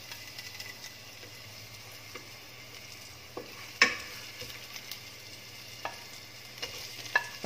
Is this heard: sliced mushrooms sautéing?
yes